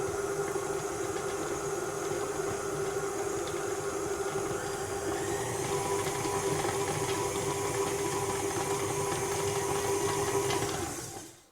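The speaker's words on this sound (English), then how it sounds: "I'm going to add first the butter to my stand mixer. That is fitted with a paddle." A stand mixer fitted with a paddle beats butter, giving a steady motor hum with a faint rhythmic churning that runs evenly for over ten seconds, then stops, with no voices.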